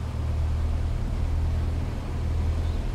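A light aircraft's piston engine idles at 1200 rpm while parked at Bembridge airfield in Microsoft Flight Simulator X, giving a steady low droning rumble that holds even and close for the whole stretch, with no speech.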